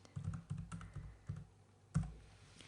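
Close, quiet typing on a computer keyboard: a quick run of key clicks, a short pause, then a few more firm taps with no talking.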